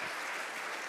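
Brief, faint burst of audience clapping at a public safety town talk, a short wash of applause heard from a distance.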